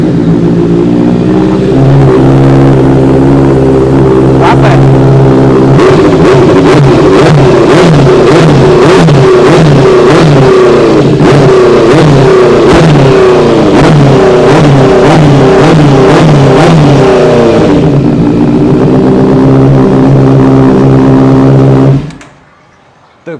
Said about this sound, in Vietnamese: bây giờ cho anh em nghe tiếng bô luôn để anh em khỏi chần chừ chờ đợi